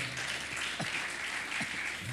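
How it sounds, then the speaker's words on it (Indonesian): A church congregation applauds during a Sunday morning worship service, a steady wash of clapping filling the hall at moderate level, with a few low vocal sounds breaking through. "Tepuk tangan buat saudara."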